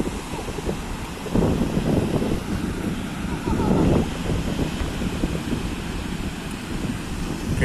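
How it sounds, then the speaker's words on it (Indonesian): Strong wind at a beach with big waves, a continuous loud blustery roar against the microphone with surges of crashing surf rising and falling. "Ombaknya ini lumayan gede ini. Anginnya kencang."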